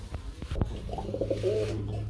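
Pigeons coo softly nearby, a low rolling burbling call, with a few sharp taps just before it.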